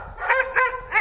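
Several Swedish Elkhounds, the Jämthund breed, let out three quick yipping barks with whiny whimpering between them, close and fairly loud.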